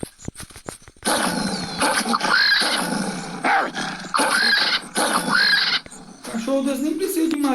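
A large white wolf-like dog in a hunting video game growls and snarls in repeated loud bursts, with squealing, roaring game animal sounds mixed in and a short pause between attacks.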